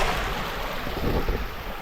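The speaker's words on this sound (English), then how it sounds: "I'm so happy to watch this water flow this way. It's like a small waterfall." A steady, broad rush of flowing water, like a small waterfall, fills the space close by without pause.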